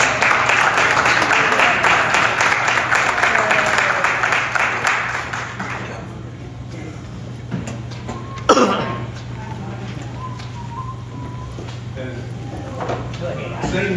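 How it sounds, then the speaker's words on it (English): Banquet audience applauding volunteer firefighters at a fire department awards dinner, a loud burst of clapping that fades after a few seconds, followed by a cough, scattered room noise and speech. "Give these guys a round of"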